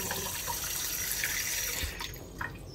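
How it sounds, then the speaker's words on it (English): Cold water runs steadily from a kitchen tap into a jar holding an avocado seed, a close, continuous splashing rush that thins and quiets near the end. "Turn on the cold water and refill it"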